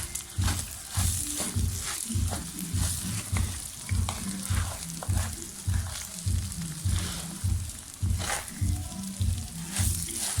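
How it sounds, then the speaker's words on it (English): Vegetable fried rice sizzles steadily in a pan, with a rhythmic series of scraping, tossing stirs repeating roughly every half second over the continuous frying hiss, close and fairly loud. "when you start with frying, it doesn't actually hold. It doesn't stick down"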